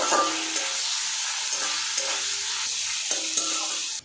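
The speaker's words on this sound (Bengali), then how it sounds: "ডালটাও একটু ভাজা ভাজা করে নেব" Moong dal frying in a pan with softened tomato and ginger, a steady close hiss of oil with light stirring scrapes throughout, no talk.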